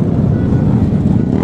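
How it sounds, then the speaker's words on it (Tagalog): Several loud motorcycles on a provincial club unity ride in Bohol, engines droning steadily and close by throughout with no clear pauses, some bikes fitted with loud-type exhausts and big bikes riding at the front. "So ang iingay ng motor,"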